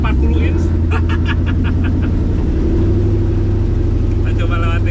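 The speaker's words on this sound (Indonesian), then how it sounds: "Kita coba lewatin." An off-road Ultra4 tubular race car with tires of nearly 40 inches crawls over an obstacle, its engine giving a steady low rumble. People talk over it throughout.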